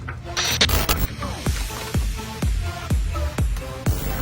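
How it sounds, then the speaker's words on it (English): A wing nut cranked tight by hand onto a boat seat bolt, a close rhythmic series of squeaky metallic turns repeating about every half second. "I'm going to go ahead and crank it as tight as I can by hand"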